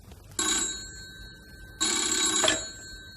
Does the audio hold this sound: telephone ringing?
yes